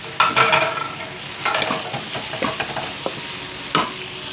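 Shrimp and tofu fry in a hot pan with a steady broadband sizzle, broken by several sharp scraping and clattering stirs. The sizzle runs close and fairly loud throughout, and no one speaks.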